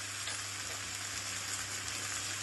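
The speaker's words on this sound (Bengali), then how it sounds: "রসুন পেঁয়াজ বাটাটা ভেজে নিচ্ছি" Garlic and onion paste with spices frying in a pan gives a steady, close, even sizzle throughout, with no pauses or talking.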